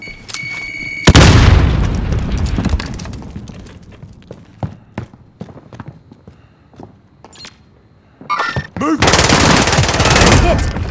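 A loud close explosion bursts out, followed by a run of sharp scattered gunshots and shorter bangs, then another sustained blast-like roar near the end, all in a Call of Duty Warzone match.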